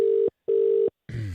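A telephone line ringing tone on a live talkSPORT radio call-in, with two clean, steady beeps separated by a short silence before the line picks up.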